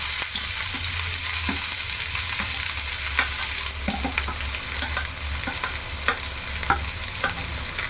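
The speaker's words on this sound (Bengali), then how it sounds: "কড়া গরম হয়ে গেছে এখন আমি তেল দিয়ে দেবো" Chopped onions fry in plenty of hot oil in a kadai for an egg curry, a steady close sizzle with scattered scraping clicks of stirring.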